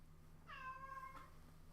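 A single drawn-out cat meow rises and falls for just under a second, fairly quiet over a steady low background hum.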